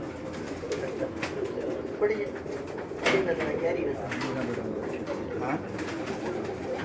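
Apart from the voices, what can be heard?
breeder pigeons cooing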